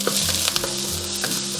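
Dried chilies and green Sichuan peppercorns hit hot oil left from frying eggplant, giving a dense, steady sizzle close up, with a few faint clinks from the wok and no talking.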